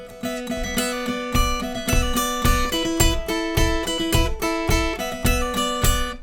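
Electric guitar solo from a song, played with sliding double-note pairs over a steady rhythmic backing, bright and close, with no voices.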